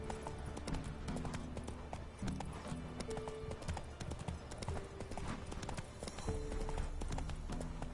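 Roach, the horse in The Witcher 3, gallops with steady, rapid hoofbeats that hold a driving rhythm throughout, fairly close, over game background sound with occasional faint speech.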